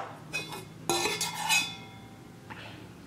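A metal spoon stirs fish pieces with salt, turmeric and pepper in a bowl, giving a couple of soft scrapes and then a clinking stir with a ringing metallic tail, then a faint final tap, with no talking.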